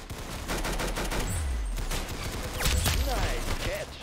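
Rapid bursts of AK rifle gunfire in a Roblox shooter game, dense overlapping shots over about four seconds with faint talk mixed in.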